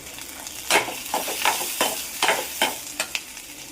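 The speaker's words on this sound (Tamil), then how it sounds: "இது கூட 1/4 கப் தேங்காய் எல்லாத்தையும் போட்டு நல்லா ப்ரௌன் ஆகிற வரைக்கும் ஃப்ரை பண்ணணும்" Coconut and spices being dry-fried and stirred in a pan for pudina chutney, a soft sizzle under repeated sharp scrapes of a spoon against the pan at an uneven rhythm, close up.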